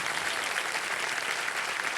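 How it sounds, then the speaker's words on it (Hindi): Studio audience on a Wheel of Fortune game show claps loudly and steadily in a dense, continuous burst of applause lasting about two seconds, close and without talking. "जोरदार तालियां"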